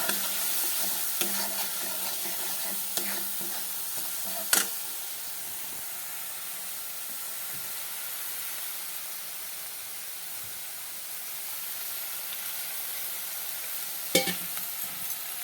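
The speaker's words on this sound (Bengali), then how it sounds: "তো এবার আমি এগুলো দিয়ে দিলাম, দিয়ে একটু নাড়াচাড়া করতে হবে।" Vegetables stirred in a frying pan with spices: an even close sizzle and hiss throughout, punctuated by occasional scraping strokes and two sharp knocks of a spatula against the pan.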